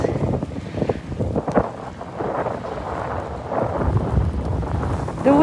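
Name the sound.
wind during a snow storm in New York City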